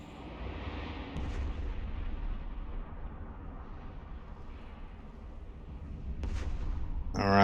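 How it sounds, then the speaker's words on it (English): Missiles launched and exploding in space combat in EVE Online: low distant booms and thuds over a steady ambient hum, with a couple of faint bursts and a louder swell at the end. "there we go, send missiles"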